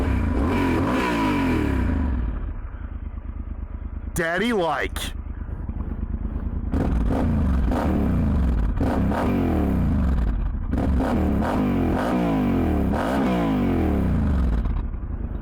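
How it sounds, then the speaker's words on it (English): A Yamaha Super Tenere 1200 adventure motorcycle engine revs repeatedly, rising and falling in loud close blips with clattery idle between, a brief voice breaking in early on. "I really, really like the way this bike sounds."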